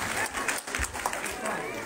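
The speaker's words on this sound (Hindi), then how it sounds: "इनके लिए तालियां बजा दीजिए आप मीडिया कर्मी के" An audience claps for media workers at a gathering in Nirmand, a loose patter of hand claps at moderate volume that runs throughout alongside a voice speaking Hindi.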